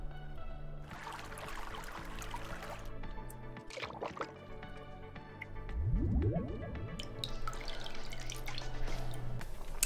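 A made-up face dunked into a bucket of water, with splashy sloshing and dripping at close range, then a surge of rising swirling water, over a steady low background hum.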